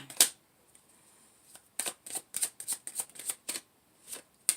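Tarot cards shuffled and drawn from a deck during a reading: a burst of riffling, then a run of crisp, evenly spaced card flicks and snaps, close and fairly quiet, with no voices.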